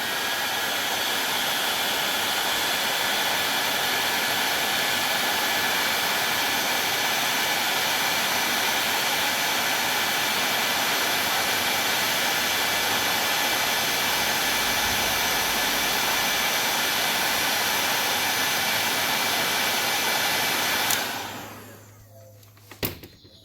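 Heat gun blowing a steady, loud roar for about twenty seconds while shrinking thick heat shrink tubing over a wire join, then cutting off abruptly, leaving near silence.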